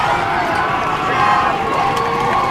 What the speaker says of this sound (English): You can hear the crowd cheering on the Bobcat defense here